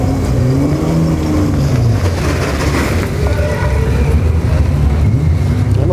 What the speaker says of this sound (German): Kommen jetzt hier die Autos aus ihren Boxen.